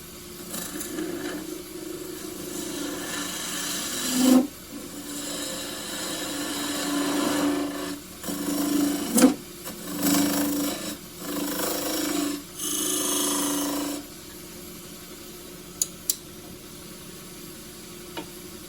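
A very hard Tasmanian horizontal scrub bark box turns on a wood lathe, with faint rasping and scraping cuts from the tool coming in short bursts and pauses, quiet and close.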